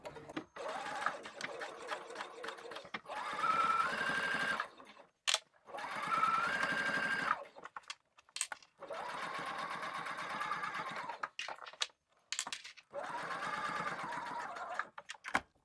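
A sewing machine runs along a bag lining seam in several steady bursts, stopping briefly between runs for backstitching and pivots, its buzzing hum close and clear with only occasional soft talk.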